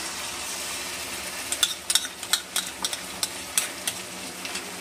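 A soft, steady sizzle of sauces poured into hot oil in a pan on a low gas flame for chili pasta, with a run of sharp clicks and taps from stirring that start partway through.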